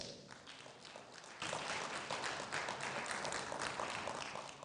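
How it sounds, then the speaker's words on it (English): An audience at the 11th Ghana Economic Forum gives a round of applause welcoming the moderator, starting as scattered claps and swelling into loud, dense clapping about halfway through. "let's welcome Godfred with a round of applause"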